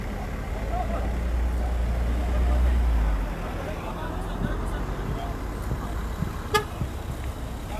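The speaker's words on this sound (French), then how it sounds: "Vous voyez, les voitures peuvent passer." Cars rolling through a roadblock at a crossroads in French Guiana, with a constant road rumble, a low drone in the first few seconds and a short horn toot near the end, with voices in the background.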